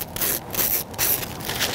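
A rough wild fig leaf is rubbed like sandpaper, giving close, dry scratchy strokes in a quick back-and-forth rhythm with short pauses, with no talk.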